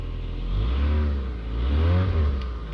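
A 1998 Rover 620 GSi engine turns over and catches, then revs up and down twice in loud, smooth surges before settling back to a steady idle.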